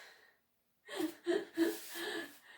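Breath is drawn in and released during a Pilates warm-up: a few soft, close airy inhales and exhales after a short pause, quiet and unaccompanied.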